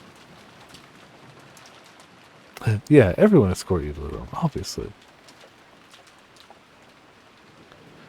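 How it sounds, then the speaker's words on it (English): Steady, soft rain hiss runs through a scene in the visual novel Umineko, with a short stretch of voiced dialogue rising over it midway. "The only voice that called after them was the sound of the rain."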